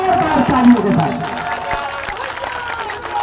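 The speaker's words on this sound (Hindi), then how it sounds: "एकदम जोर से तालियां बजाइए" An audience at a public gathering applauds loudly, with continuous dense clapping that blends with a voice speaking over it.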